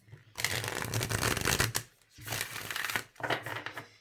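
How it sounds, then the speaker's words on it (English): Brand-new Astrology Oracle cards being shuffled by hand, three dense bursts of papery riffling with short pauses between them, close and clear. "let me shuffle them again then"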